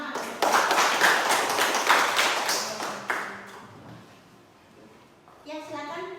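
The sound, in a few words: classroom clapping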